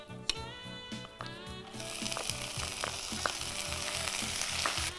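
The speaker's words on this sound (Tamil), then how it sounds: "வெங்காயம் லேசாக வதங்கிடுச்சு." Onions fry with bay leaf and garam masala spices in a pan, giving a soft rising sizzle with crackling bursts that settles into a continuous, fairly quiet frying hiss.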